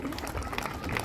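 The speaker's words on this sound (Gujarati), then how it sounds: "તો આ પ્રસંગે આપણે સુરેશભાઈ માટે એકવાર જોરદાર તાળીઓ પાડી દઈશું" A school audience at an Independence Day celebration in Manfara village applauds Sureshbhai, a brief burst of dense, steady clapping from a crowd with some voices mixed in.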